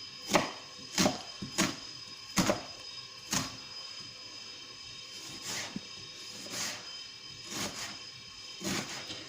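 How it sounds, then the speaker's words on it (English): Onions being chopped with a knife on a board: sharp, close thuds in an uneven rhythm, quicker at first and then spaced out and softer, with no talking. "Do your best to chop the onions fairly evenly so they cook fairly evenly."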